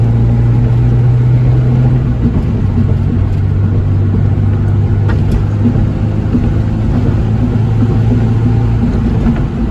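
An Acura Integra with a swapped B20 VTEC engine idles while warming up, a steady low droning hum with a slight dip in pitch after a couple of seconds, close and continuous with no talk.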